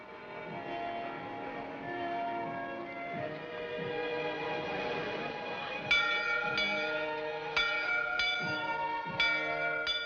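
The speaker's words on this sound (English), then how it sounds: "Bell. I always liked bells." A church-style bell rings out clearly over a sustained musical background, with about half a dozen distinct ringing strikes in the second half, each decaying with a long resonant tail.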